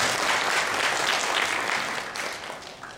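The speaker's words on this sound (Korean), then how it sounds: "큰 박수로 맞이해 주시기 바랍니다" Audience applause welcomes a speaker at a 2018 urban data conference lecture in a university library hall, a steady dense clapping that holds and then gradually tapers off.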